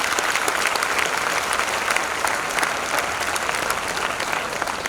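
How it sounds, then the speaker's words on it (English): An audience at a medical seminar on spina bifida in Visakhapatnam, India claps steadily, a dense, even round of applause from many hands that carries on throughout. "big round of applause to ourselves."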